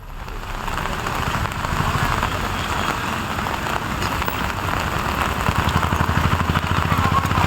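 Heavy monsoon rain pours steadily in Pudukkottai, Tamil Nadu, a dense, close hiss of drops drumming on surfaces with no break throughout.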